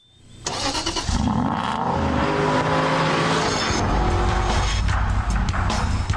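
A 4.3-litre V8 roadster sports car with 380 horsepower starts and revs hard, its engine note climbing loudly and steadily, with tire squeal as it accelerates and no talk over it.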